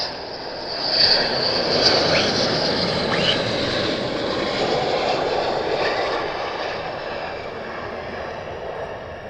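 An F-15 military jet at RAF Lakenheath roars loudly and steadily overhead, a broad sustained rumble with a hissing high edge that slowly shifts as it passes.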